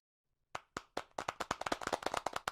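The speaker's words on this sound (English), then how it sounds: "Let's all give a quick clap for Robin" Audience members clap for a colleague's retirement at an awards event, starting after a short silence with a few separate claps that quickly build into a steady, moderately loud round of applause.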